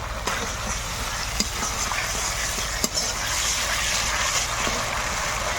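Spice paste of ginger and cumin for a thin rohu fish curry sautéing in a pan, giving a steady close sizzle with soft scraping stirs and a few sharp clicks of the spoon against the pan.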